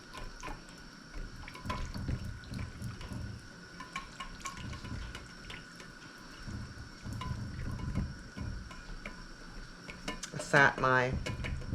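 A spoon stirring a stuffed bell pepper filling in a bowl, soft wet scraping and clinks of utensil against dish repeating irregularly at close range.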